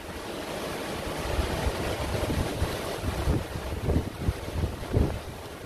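Strong gusty wind blows outdoors and buffets the microphone with a low, rumbling roar. The noise rises and falls in uneven surges, close and constant, with no speech.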